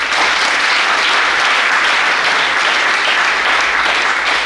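A church congregation applauds and cheers in praise, a steady dense roar of clapping that fills the room without pause.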